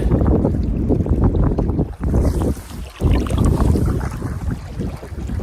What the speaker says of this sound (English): Don't want to catch a fish when I got winds gusting behind me.